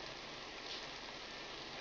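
Steady rainfall from a 1946 film scene, an even, continuous hiss of drops that stays constant at moderate volume with no speech.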